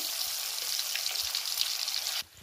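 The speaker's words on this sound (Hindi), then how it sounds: "अब इसे फ्राई कर लेंगे पहले पोटैटोज को फ्राई कर लेंगे" Potatoes frying in oil at close range make a dense, loud hiss and sizzle that holds steady for about two seconds, then suddenly drops to a much quieter level, with no talking.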